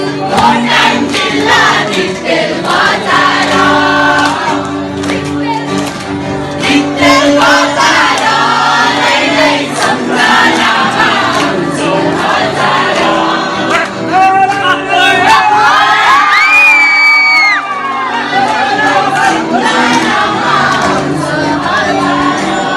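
A loud, continuous crowd at a college welcome program cheers, with shouts and high whoops rising over a dense wash of voices and noise.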